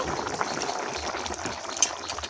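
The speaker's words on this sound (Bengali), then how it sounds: "দেখুন কি সুন্দর ফুটছে চারিধার দিয়ে।" Steady bubbling and gentle roiling of a lote fish (Bombay duck) curry simmering in a pot, continuous and close, with a small pop near the end.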